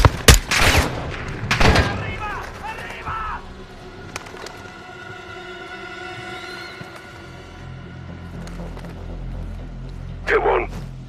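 Gunfire from the Modern Warfare II video game: loud, close bursts of rapid shots and booms in the opening seconds, then a quieter stretch of rumbling battle ambience, with another sharp burst near the end and voices in the mix.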